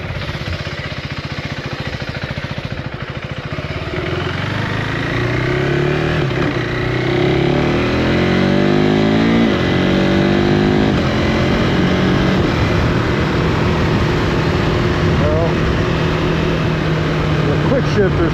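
A KTM 390 Enduro R motorcycle accelerates hard with a loud, close engine note that climbs and dips through quick gear shifts, running continuously throughout.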